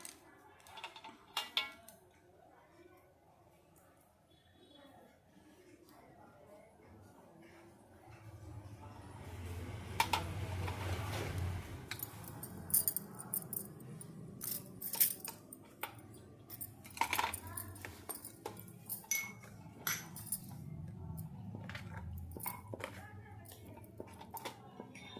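Children stirring a mixture in a dish at home for Ugadi, giving scattered clinks and scrapes of utensils against the dish, close and irregular, with voices talking in the background.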